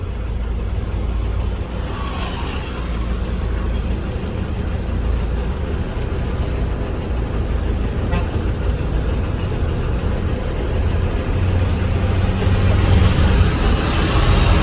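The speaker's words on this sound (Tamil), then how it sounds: "இப்போ பாருங்கள் இங்கே லாரி ஏறி வருதுங்களா" A lorry's engine drones steadily as it climbs up a road, a continuous loud rumble that rises slightly toward the end, with outdoor traffic noise around it.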